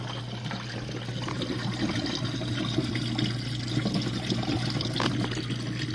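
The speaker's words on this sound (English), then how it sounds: "So it does fill up with hot water, and the dishwasher heats it up." Hot water pours and trickles into a Jenn-Air dishwasher at the start of its fill, a steady close-up rush with a low constant hum underneath and no talking.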